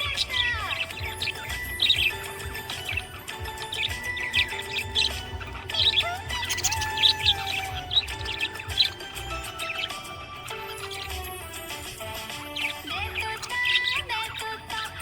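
A happy pet budgie chirping and twittering close up, a busy stream of bright tweets, squawks and warbles in irregular bursts that keep going throughout, with no talking.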